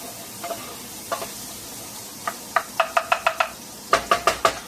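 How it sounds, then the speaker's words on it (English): Chopped onion cooking in a pan for baked beans, a spoon scraping and knocking against the pan in quick sharp taps, sparse at first then in rapid bursts over a faint sizzle. "1 medium onion chopped, and you're going to cook it for about 5 minutes until it's nice and tender"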